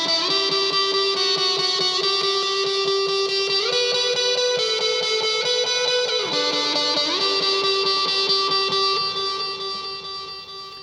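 Dense wall of distorted electric guitar eighth notes looped and doubled through a Line 6 DL4 delay, a continuous loud shimmering mass whose pitch shifts several times before fading at the end.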